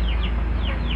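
Free-range native village chickens cluck in short repeated calls, close and fairly loud over a steady low background hum, with no talking.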